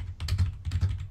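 Computer keyboard typing picked up by a gaming microphone, a quick run of soft clicky keystrokes in two short bursts, close and fairly quiet.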